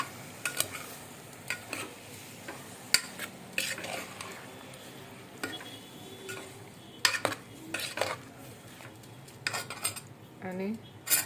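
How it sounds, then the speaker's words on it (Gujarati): Red chili powder, turmeric and coriander-cumin powder are stirred into green chickpeas in a pressure cooker. A spoon scrapes and clinks against the metal again and again over a soft sizzle, close and irregular. "હવે આ બધું બરાબર મિક્સ કરી દઈશું"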